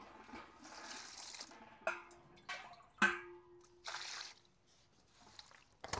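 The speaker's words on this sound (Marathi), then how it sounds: "ते आता आपण स्वच्छ पाण्याने धुवून घेऊया" Hand-stripped moringa leaves rubbed and rinsed in a bowl of clean water to remove dust. Close, intermittent sloshing and splashing comes in bursts, with drips and soft knocks between them.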